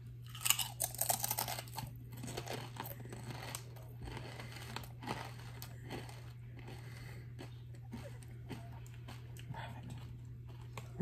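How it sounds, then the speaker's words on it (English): Close-up crunching of kettle-cooked jalapeño potato chips being chewed, loudest at first then settling into softer repeated bites over a low steady hum. "Let's hear this crunch."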